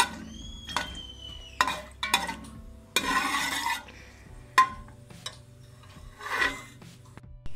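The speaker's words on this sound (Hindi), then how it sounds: "ये आप देख सकते हैं, हम मसालों को 2 से 3 मिनट के लिए भूनेंगे।" Spices roasting in a pan for tadka moong dal, intermittent close scraping and rasping of a spoon against the pan in short bursts, with a few light clinks and quiet gaps between, no talk.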